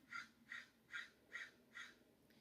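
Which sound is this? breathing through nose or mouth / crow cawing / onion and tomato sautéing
crow cawing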